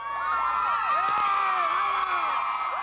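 A dense hometown crowd in a tiny town of about 1,500 people cheers and whoops for Olympic wrestler Rulon Gardner as he passes, a steady wall of excited voices with shrill children's shouts and whistles rising above it throughout.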